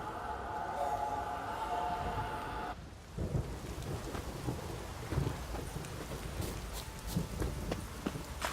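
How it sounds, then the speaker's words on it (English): Heavy downpour in the video game The Witcher 3 Wild Hunt: steady dense rain hiss with scattered drops, joined partway through by low rumbling thunder, moderately quiet and continuous. "This downpour's a bastard, it is."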